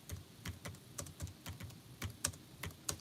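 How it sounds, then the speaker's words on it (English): Keys clatter on a computer keyboard in a quiet room, a close, uneven run of crisp individual taps and short bursts with small pauses between them, and no voices. "I'm typing now."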